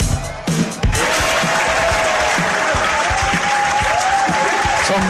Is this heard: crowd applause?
yes